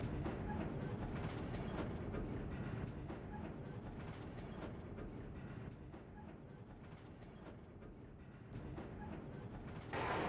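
A first-class train in Burma rolls over the tracks with a steady, close, rumbling clatter and faint rhythmic clicks, continuous throughout with no talking.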